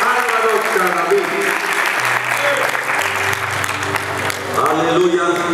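Church congregation applauding as the pastor is welcomed, loud sustained clapping from a large crowd under music or voices, with low tones shifting in the background.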